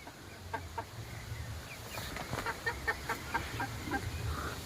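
A chicken clucks in a rainy-season village household, a quick run of short, moderately faint clucks over steady background hiss, with no one speaking.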